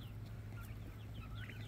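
Chickens and the rooster Big Red in a coop give off faint, scattered clucks over a low steady background hum, quiet and somewhat distant, with no talk.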